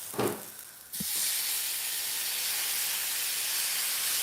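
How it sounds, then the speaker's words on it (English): Water poured into a hot pan of caramelizing onions makes a brief sputter, then a loud, steady steaming sizzle and hiss that carries on without a break. "Yeah, I'm just going to put a little bit of water."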